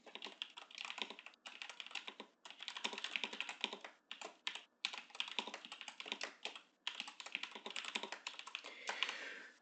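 Fast typing on a computer keyboard, a dense, continuous clatter of close key taps with a few short pauses, heard alone.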